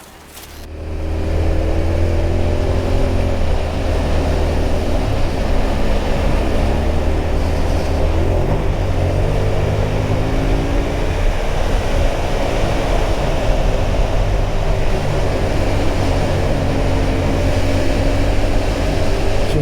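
A Yamaha Tenere 700 motorcycle rides at a steady pace, its engine a loud, continuous low drone with wind rush, rising quickly at the start and then holding even throughout, with no voices.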